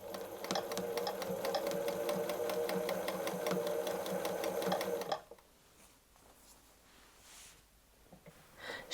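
A sewing machine free-motion quilting a fabric pot holder hums in a steady, close, rapid stitching rhythm for about five seconds, then stops, leaving faint handling of the fabric.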